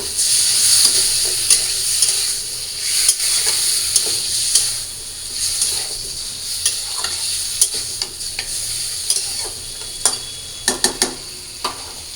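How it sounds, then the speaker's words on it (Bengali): Spiced meat frying in a pan at home, with a steady loud sizzle and hiss under repeated stirring scrapes and clicks, close and continuous with no talk. "মাংস রান্না করে দিই"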